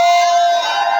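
A political rally crowd in District 9 shouts together in one short, loud sustained yell, a unified held vocal roar lasting about a second.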